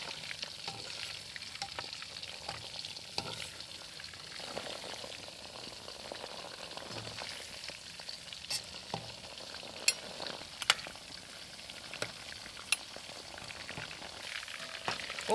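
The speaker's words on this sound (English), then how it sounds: "And I deep fry until they turn golden brown." Chicken pieces deep frying in hot oil, a steady dense sizzle with bubbling crackle and occasional sharp pops, continuous and fairly close.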